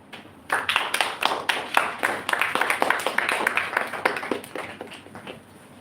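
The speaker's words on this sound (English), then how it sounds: "Please join me in welcome Mr. Arun on the stage." An audience at a Toastmasters club meeting applauds with steady, dense clapping that swells and then slowly thins toward the end, heard from within the audience.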